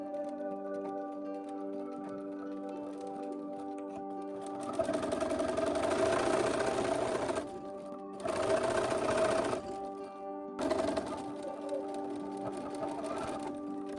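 A sewing machine runs close by, stitching a seam on a dress in three sustained bursts separated by short pauses. A low steady hum sits underneath throughout, and no one talks.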